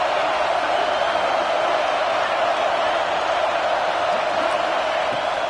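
A constant roar from a stadium crowd fills a college football video game, a broad even wash of noise with faint shouts, while a commentator talks over it.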